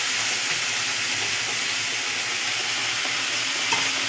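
Spice masala frying in hot oil with fried eggs makes a loud, continuous close-up hiss and sizzle, steady throughout with faint stirring scrapes and no talk.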